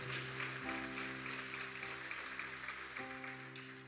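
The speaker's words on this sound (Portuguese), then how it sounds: "Você pode aplaudir a Ele, por favor," A church congregation applauds at a Sunday evening celebration service, a dense continuous clapping over sustained organ or keyboard chords.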